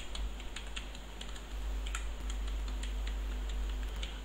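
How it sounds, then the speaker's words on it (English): A computer keyboard clacking as a C++ program is typed, with quick irregular keystrokes up close over a low hum, with no talking. "So now here type the program."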